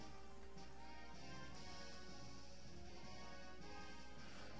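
Steady hiss of rain weather in a Pokemon video game, a faint, even wash of falling water running continuously in the background without a break.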